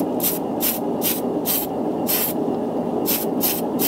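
An aerosol spray can paints a large Gunpla plastic model part in a single military colour, sounding as about nine short, sharp hissing bursts in a steady rhythm, close and loud.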